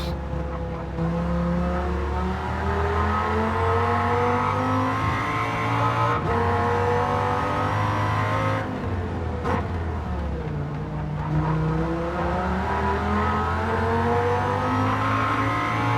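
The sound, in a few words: Viper race car engine in video game Gran Turismo 7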